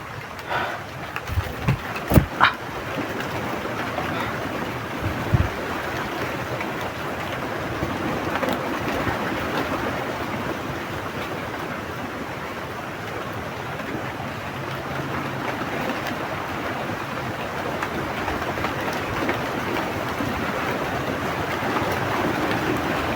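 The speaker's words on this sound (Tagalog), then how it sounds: "May ulan na to." Rain falls outdoors near a forest camp as a steady, dense wash of broadband hiss that holds evenly throughout, with a few sharp knocks and rustles at the start.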